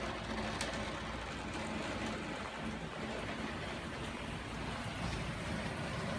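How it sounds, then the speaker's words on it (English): Heavy rain pours down hard, drumming on a skylight in a steady, dense wash of noise that fills the whole stretch without letup. "Whenever it rains really hard here, it makes a lot of noise"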